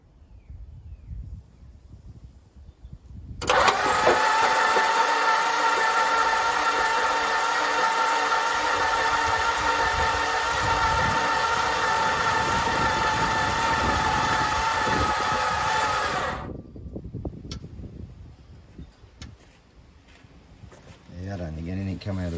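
A VJ Dodge ute engine being turned over with its spark plugs removed, a loud steady whirring drone that runs unbroken for about thirteen seconds and then cuts off abruptly. A voice is heard before and after.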